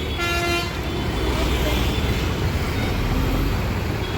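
A bus pulls up in busy traffic and sounds a loud horn early on, over a steady roar of engines and road noise.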